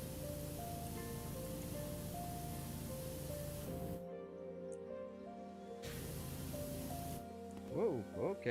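Pressure washer spray in Powerwash Simulator, a steady hissing jet that cuts out briefly and then resumes under a low hum, with a voice talking over it.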